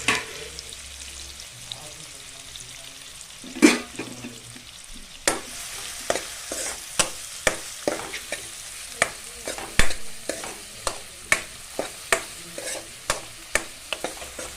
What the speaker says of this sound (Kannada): ಎರಡು ದೊಡ್ಡ ಈರುಳ್ಳಿಯನ್ನು ಹಾಕಿಕೊಳ್ಳೋಣ, ಫ್ರೈ ಮಾಡಿಕೊಳ್ಳೋಣ.